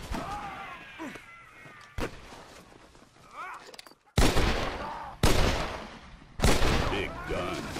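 Heavy gunfire in Red Dead Redemption multiplayer, with several sharp, loud shots and bursts spread across the clip between stretches of quieter game noise and brief voice.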